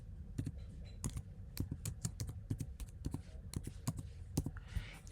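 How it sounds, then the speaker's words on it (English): Quick, uneven clicking of keys on a MacBook keyboard, close and fairly quiet, with short bursts and brief pauses. "just start typing Google Chrome"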